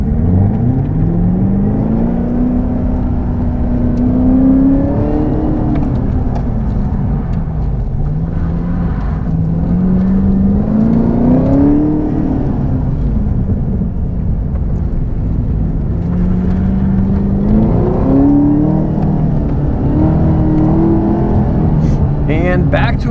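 Chevrolet Camaro ZL1 1LE engine on an SCCA autocross course, a loud steady roar rising and falling in pitch through repeated accelerations and lifts, with a voice talking over it.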